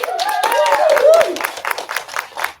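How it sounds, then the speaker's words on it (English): An audience at a press conference in New Mexico applauds, a steady patter of clapping hands that fades toward the end, with a voice speaking over the start of it. "let's give her a round of applause"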